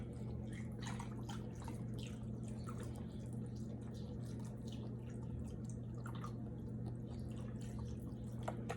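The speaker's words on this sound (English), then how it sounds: "I'm gonna show you guys how much chicken broth I pour." Chicken broth poured from a box over turkey wings in a baking pan: a faint, continuous liquid trickle with scattered drips, heard quietly over a low background hum.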